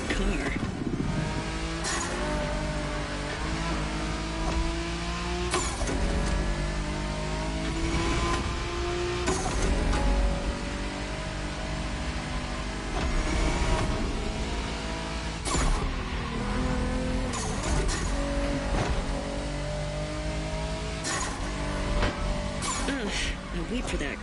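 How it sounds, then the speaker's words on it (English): A car races and skids in the video game The Crew Motorfest, its engine droning loud and continuous. Sharp revs and tyre-squeal bursts cut through repeatedly. "Ugh, wait for that car."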